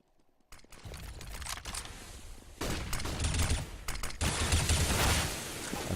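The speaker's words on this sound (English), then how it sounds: "tries to shoot at Griefmaster" Rapid bursts of gunfire from a Counter-Strike match on de_inferno, sharp crackling volleys in clusters that grow denser and louder toward the end.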